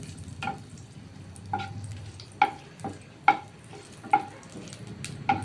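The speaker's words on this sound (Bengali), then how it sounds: "এই লঙ্কা ভেজে আমি তুলে রাখবো" Small chilies frying in hot oil, a low steady sizzle with a series of sharp spitting pops and crackles every second or so, close and fairly loud, no voices.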